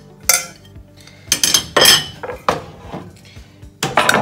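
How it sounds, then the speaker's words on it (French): Ingredients tipped into a saucepan with oil, salt and pepper, giving a series of loud metallic clanks and scrapes of utensils against the pan in irregular bursts, close and without talk. "ici dans ma casserole, je rajoute tout ça sans exception avec de l'huile, du sel, du poivre."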